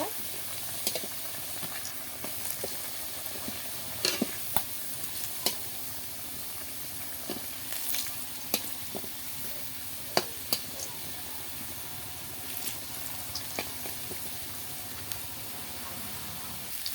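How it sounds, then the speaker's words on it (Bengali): Potatoes frying in oil give a soft, steady sizzle, broken by scattered light pops and scraping clicks. "এবার ভালো করে আলুগুলো বাদামি কালার করে ভেজে নেব।"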